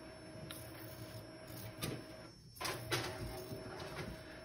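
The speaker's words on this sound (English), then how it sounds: "I have to add paper to my printer." A home printer is handled while paper is loaded, giving quiet clicks, a soft sliding tray sound and faint mechanical clatter at close range, with no voices.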